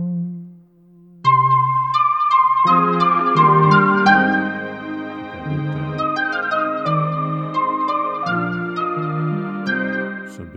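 A music sample loop for beat making plays loud and alone, opening with a soft low tone before a dense melodic section kicks in with layered plucked and keyed notes and a steady rhythmic pulse.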